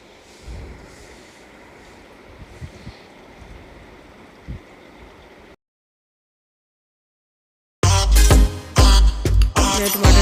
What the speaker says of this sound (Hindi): टमाटर डाल के मैं इसे फ्राई कर लूँगी अच्छी तरह।